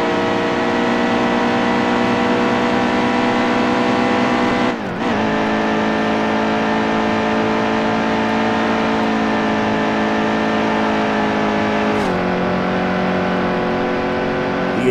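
Race car engine held at full throttle in NASCAR Heat 2, a steady loud high-pitched drone with a brief dip and shift near five seconds and another small shift near twelve, no talk over it.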